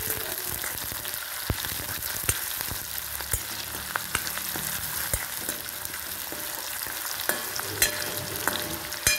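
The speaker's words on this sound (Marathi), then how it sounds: "चांगला कांदा तळून घ्यायचा।" Sliced onion frying in a pan for a moong dal curry, steady soft sizzle broken by sharp scraping clicks of a spatula stirring, fairly quiet and close, no voices.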